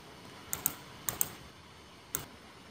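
Ctrl shortcut keys pressed on a laptop keyboard, five sharp close clicks in pairs and one single tap, over a quiet background.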